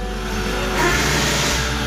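A car engine runs steadily at idle during a check of the input voltage to the panel, a close, continuous low hum that swells slightly partway through, with no talking.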